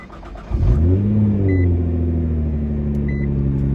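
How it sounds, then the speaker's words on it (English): Nissan GT-R engine starting up: a brief starter whir, then a sharp burst as it catches and revs before settling into a steady, fairly loud idle with a falling pitch. "So let's go ahead and start this thing up."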